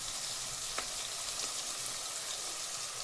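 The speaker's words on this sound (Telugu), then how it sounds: "కొన్ని తెల్లగడ్డలు కూడా వేసుకోవాలా. బాగా దోరగా వేయించి" Garlic sizzles steadily in hot oil in a pan as it is fried until golden, a constant close, low-level crackling hiss with a few faint pops and no voices.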